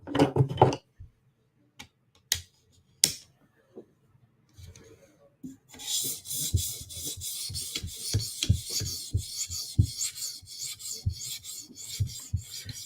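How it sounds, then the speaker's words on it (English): A blade is sharpened on a 400 grit whetstone in steady, rhythmic rasping strokes, close and clear, after a few quiet taps and shuffling sounds at the start. "Jump over to the 400 grit stone."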